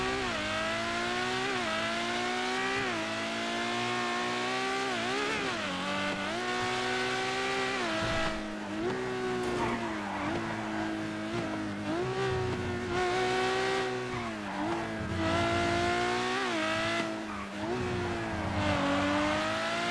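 A game car engine drones continuously, its pitch rising and falling through repeated revs and gear shifts, loud and unbroken for the whole stretch.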